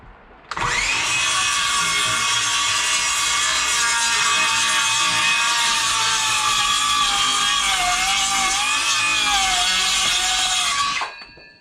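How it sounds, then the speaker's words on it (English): A regular circular saw cuts through material for a trailer hitch step mud flap install, spinning up and then holding one long, loud, steady whine before winding down. "I'm using a regular circular saw."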